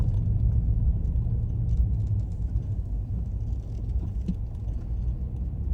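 A car driving through Clark State Forest in fall, heard from inside as a steady low engine and road rumble with no talking.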